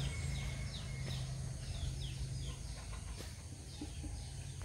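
Chicken clucking outdoors on a rural property after rain, a few short, faint calls at a distance over low rumbling background noise and scattered birdsong.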